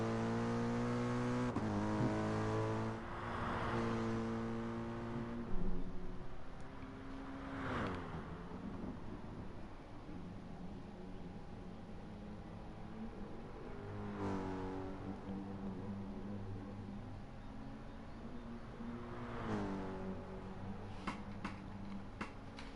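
Race car engines at Interlagos in a racing video game, several cars howling through upshifts and sweeping rising and falling pitches, loud and steady with a car passing close by mid-lap.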